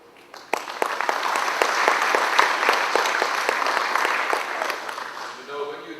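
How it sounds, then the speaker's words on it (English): Audience clapping for a family at an event, a single burst of applause that swells quickly, holds for several seconds, then fades, with a voice speaking near the end. "Can we give them a clap for that?"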